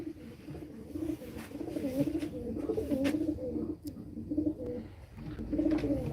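Distance racing pigeons coo softly in a steady, repeating rhythm of low throaty calls, fairly quiet and close, with faint background noise.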